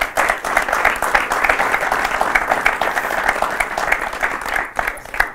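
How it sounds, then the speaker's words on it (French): Following a lecture on combinatorial strength training, an audience breaks into sustained, even applause, a close crackle of many hands that tapers near the end. "Donc on va les applaudir et les remercier."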